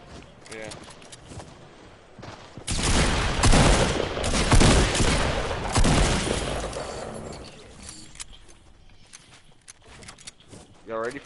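Video game firefight with a loud rolling burst of rapid gunfire in the middle, trailing into scattered shots, while players talk over it before and after.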